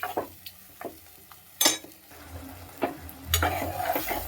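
Mango curry stirred in a pan, a few scraping spoon strokes and clinks against the pan over a low sizzle, close and moderately quiet.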